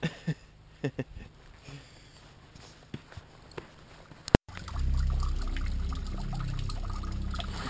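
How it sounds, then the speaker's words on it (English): Water poured slowly into jugs outdoors at a campsite, a steady rushing pour filling the second half after a few scattered knocks and footsteps, fairly close and moderately loud. "Just decided that I wanted to fill up my water jugs through old school means of just the slow process of filling and dropping the water."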